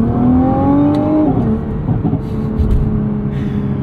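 A 2023 Nissan GT-R Premium in manual mode accelerates hard, its loud engine tone climbing through a shift, then droning on from inside the cabin.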